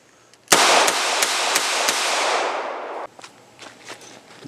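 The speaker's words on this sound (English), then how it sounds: "I'm just going to squeeze off 5 shots as fast as I can and see what it looks like on Joffrey." A Smith and Wesson 437 Airweight revolver fires five rapid shots outdoors, sharp close cracks in quick succession over a wash of loud broadband noise that cuts off abruptly, followed by faint clicks and light handling sounds.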